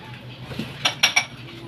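Dishes being washed by hand, with a few sharp clinks of pots and cutlery standing out over a low background hum and faint murmur.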